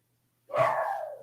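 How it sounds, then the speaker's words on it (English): A single sharp dog bark rings out close by indoors after silence, then trails off with a brief fading tail. "there's the dog making himself known"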